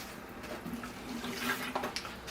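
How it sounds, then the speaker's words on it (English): Water draining out through the drainage holes of a bonsai pot holding a freshly repotted Russian olive, a soft steady trickle and patter running throughout at low level, with no voices. "It's coming out the drainage holes now. It's running nice and clear."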